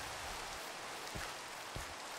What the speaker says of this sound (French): mais la pluie, quel enfer!